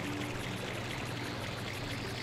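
Waterfall in the video game Super Mario Sunshine, a steady, dense rushing wash of water that holds evenly throughout at moderate volume, with no voices.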